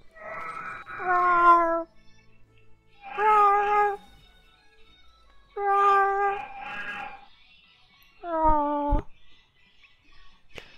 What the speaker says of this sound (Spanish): Asustaste a mi gato